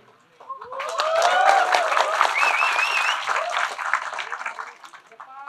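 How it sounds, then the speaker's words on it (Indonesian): A crowd breaks into loud applause that swells quickly and holds steady for several seconds, with a few cheers and whistles rising above the clapping. "Ini yang tepuk tangan."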